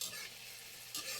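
Sardines and eggs stirred in a frying pan, a brief close scrape of utensil against pan over a steady sizzle that swells again near the end, with no one talking.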